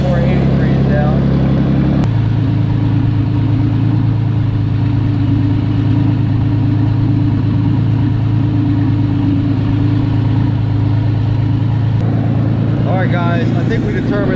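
Red Ranger engine running after a top-end overhaul, a steady, loud, close idle with a deep droning rumble that holds evenly, shifting slightly in tone near the start and end.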